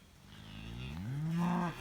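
A cow moos once in a pasture corral, a long rising bellow that swells to full loudness near the end, heard alone and close by.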